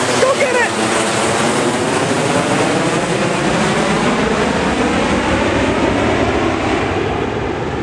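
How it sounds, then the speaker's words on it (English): A plane roars steadily overhead, loud and broadband with a slowly shifting pitch throughout, while a voice talks underneath. "Look! Plane! Here it comes!"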